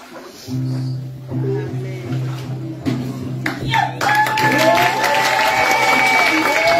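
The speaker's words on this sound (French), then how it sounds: "Applaudissez encore plus." A church congregation claps and cheers after a baptism, steady applause rising and swelling as a voice speaks over the start, with crowd noise and some whoops building toward the end.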